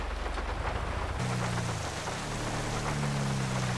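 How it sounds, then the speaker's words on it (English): Steady rain hisses across a rainy day in the video game GTA 5, a dense broadband wash with no voices, joined partway through by a low engine-like drone underneath. "It is a rainy day"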